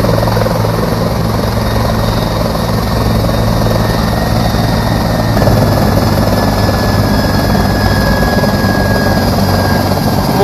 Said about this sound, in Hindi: हेलीकॉप्टर जो दिखाई दे रहा है।